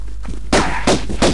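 Pistol shots fired at a velociraptor in the original Tomb Raider game, a quiet moment followed by three loud, sharp gunshots in quick, evenly spaced succession.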